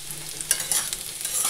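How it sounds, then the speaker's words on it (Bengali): Cauliflower and potato frying in a pan, a bright continuous sizzle close up with scraping stirs of a spatula and small crackles, no voices. "তো ফুলকপি আলু ভাজা হয়ে গেল"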